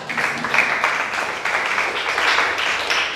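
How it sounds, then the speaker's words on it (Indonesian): A class of students claps hands in a classroom, a steady dense patter of applause sustained throughout, moderately loud with no talking over it. "Oke, tepuk tangan"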